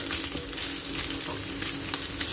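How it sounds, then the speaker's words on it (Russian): Food sizzles steadily in a frying pan for carbonara, a dense, continuous crackle with small pops and occasional stirring, close and without talk. "Вот она в середине больше почему-то горит, жарится быстрее."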